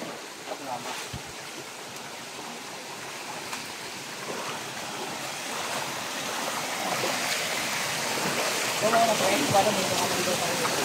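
Strong rushing stream water, a steady broadband roar that grows slightly louder toward the end, heard up close with no clear talk.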